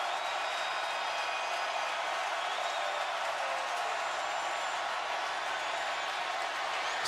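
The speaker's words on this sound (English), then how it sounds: "You can hear this crowd." Steady, dense roar of a large NFL football stadium crowd during a Detroit Lions versus New Orleans Saints game, a continuous broad wash of voices holding constant for the whole stretch with no distinct speech.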